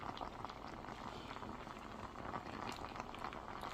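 Plums simmer on a stove, cooking down from watery juice into a thick syrup, with a steady, dense bubbling and gentle sizzle that runs unbroken and close throughout.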